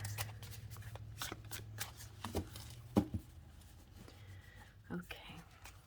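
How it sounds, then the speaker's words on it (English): Tarot cards being shuffled up close in quick papery riffles and soft slaps, irregular bursts with a few sharper taps, under a quiet whispery voice. "let's shuffle a little"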